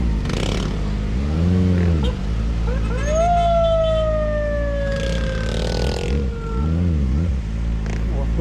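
A police siren wails as it passes close by on an expressway toward Manila, its rising and falling tone sweeping over steady traffic and engine rumble.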